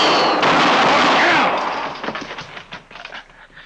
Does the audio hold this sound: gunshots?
yes